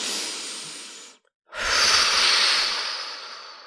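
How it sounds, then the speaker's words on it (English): A slow, deep belly breath taken during a calm self-reflection exercise: a long airy inhale, a brief silent pause, then a fuller, louder, hissing exhale, close and intimate. "we take a nice deep belly breath"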